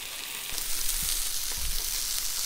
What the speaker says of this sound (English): just a quick sear and you can see the flesh is cooking on the outside